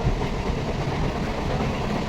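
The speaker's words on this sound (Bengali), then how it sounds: "পুরো ফাঁকা ট্রেন গাইস।" Rumble of a moving train heard from inside an empty carriage, a steady close roar with faint rhythmic clatter throughout and no talk.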